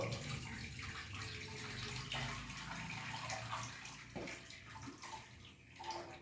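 Water pours steadily from a tap into a cooking pot, a soft continuous splashing heard quietly up close.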